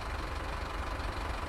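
A BR 146 electric locomotive in Train Sim World 4 idles with a steady low rumble and faint knocking texture, constant throughout with no speech.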